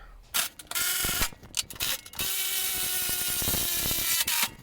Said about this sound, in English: Go ahead and take off the roll cage bolts. Again, that's a 17mm.